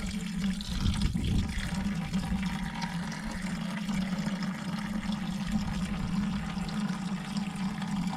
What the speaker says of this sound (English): Pail ready to catch contaminated dirty fuel. Drain the tank.